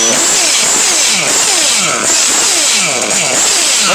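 A Novarossi Elite 5 nitro RC engine revs hard and close, a loud buzzing whine that surges and falls in repeated quick bursts throughout.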